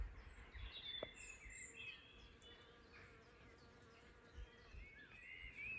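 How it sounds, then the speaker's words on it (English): Soft, continuous buzzing of many honeybees close by among hawthorn blossom on a Somerset flower farm, with a few faint bird chirps in the background. "I wonder, can you hear the bees?"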